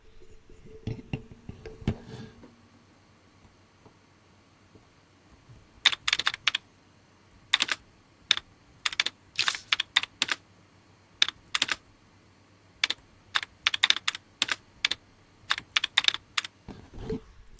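Bursts of rapid computer keyboard typing, close and crisp, starting after a few seconds of quiet and continuing in uneven runs.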